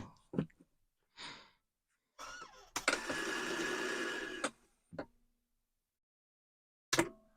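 A Commodore 1525 dot-matrix printer runs in short mechanical bursts, with a longer buzzing print pass in the middle and sharp clicks and clunks before and after, close and moderately loud against silence.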